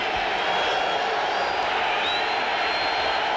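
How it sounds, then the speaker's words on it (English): A stadium crowd roars steadily throughout at a 1992 NFL football game between the Bills and 49ers, a dense continuous wash of massed voices with no distinct claps or calls standing out. "A crowd trying to make some noise."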